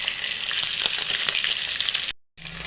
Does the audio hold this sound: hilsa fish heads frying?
yes